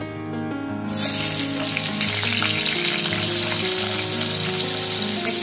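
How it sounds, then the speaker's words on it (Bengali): Potatoes slide into hot oil left from frying fish, seasoned with cumin seeds and bay leaf, and a loud, steady sizzle suddenly bursts up and keeps crackling close by over a faint background hum. "এবার এই মাছের তেলেই আমি আলুগুলোকে ভেজে নেব।"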